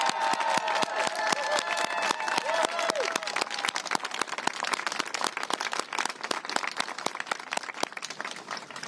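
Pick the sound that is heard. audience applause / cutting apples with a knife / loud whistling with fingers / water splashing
audience applause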